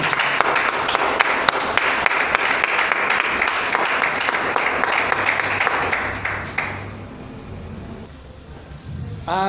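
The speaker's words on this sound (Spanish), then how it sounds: "Vamos a darle un fuerte aplauso a nuestro Señor Jesucristo." A church congregation gives a loud, dense round of applause with sharp claps throughout, then it thins out and fades into quieter room noise over the last few seconds.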